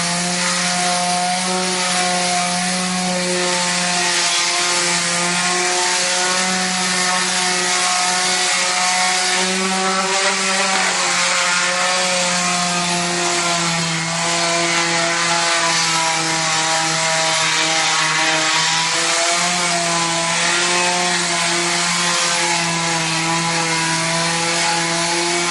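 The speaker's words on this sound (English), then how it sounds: "Now I'm sanding from the bottom up so I don't get dust on the project" Sanding a drywall repair produces a steady, continuous abrasive hiss over a droning motor-like hum, close and loud throughout with only slight wavering in intensity, and no voices.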